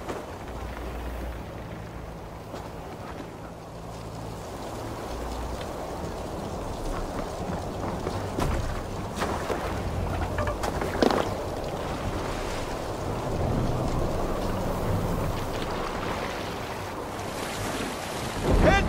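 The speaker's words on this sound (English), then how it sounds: "Head towards the eye of the storm!" In Assassin's Creed Valhalla, a stormy sea surges with rolling waves, wind and rain around a boat, the dense wash swelling and easing over time with occasional heavier crashes.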